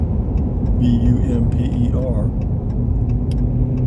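A car follows close behind on a road, its steady engine and tyre rumble running loud and continuous throughout beneath someone talking.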